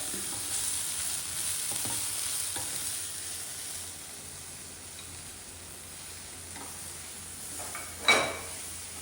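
Dried anchovies added to a brinjal curry fry quietly in a pan, a low, even sizzle broken by a single metallic clatter near the end.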